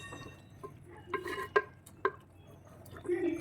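Rice for soya biryani being mixed in a pot: a few soft scraping and clinking strokes of a utensil against the pot, close and fairly quiet, with brief gaps between them.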